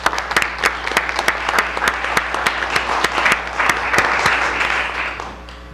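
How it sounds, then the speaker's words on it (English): A room at a county Board of Supervisors meeting fills with applause for foster parents, a dense burst of clapping with sharp individual claps in front that gradually tapers off. "So I applaud them today."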